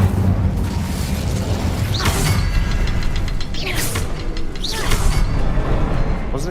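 An Incendio fire spell cast in Hogwarts Legacy, a loud roaring blast with rumbling bursts and whooshing sweeps that fill the whole stretch.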